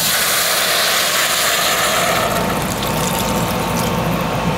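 Water, 2.5 cups, poured into a pot on the stove for cooking potatoes, a dense steady rush of liquid that runs throughout without talk.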